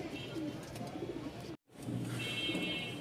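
Rajshahi Kokka pigeons, a thin-voiced breed, coo steadily through a short stretch, with a brief silent break midway and a faint voice or two in the background.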